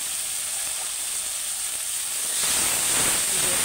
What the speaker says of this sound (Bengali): চিংড়ি মাছটা ঢেলে দেবো।